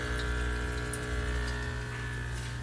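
An aquarium canister filter pump on a 125 gallon tropical cichlid tank pushes out water with a loud, steady rushing hiss and low hum, constant throughout with no break.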